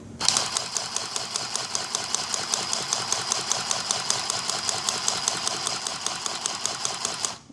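A Singer Stitch Sew Quick handheld sewing machine runs continuously, a loud, rapid, even mechanical chatter of stitching that starts abruptly and stops at the end, with no talk.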